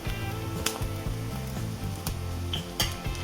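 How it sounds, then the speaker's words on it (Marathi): Coconut roasting in hot oil in a pan, an ongoing sizzle mixed with a tonal background and a few sharp clattering stirs of a spoon against the pan. "आता याच्यामध्ये ह्या तेलामध्ये आपल्याला खोबरं भाजून घ्यायचं आहे."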